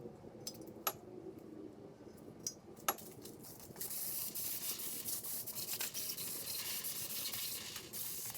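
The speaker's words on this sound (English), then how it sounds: "get the block sprayed off. We're just brake cleaning it" Brake cleaner hisses from a spray can onto an engine block in a garage, a steady close spray that begins partway through after a few scattered metallic taps and clinks.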